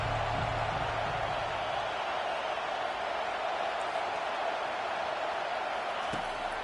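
Stadium crowd noise in a college football video game, Tennessee vs Oklahoma, a steady, even roar of fans holding at a constant level.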